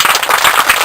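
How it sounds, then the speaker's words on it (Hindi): Loud, dense clapping from an audience fills a brief moment at a school Independence Day gathering, a close burst of applause for the children with no voices over it. "बच्चों के लिए जोरदार ताली"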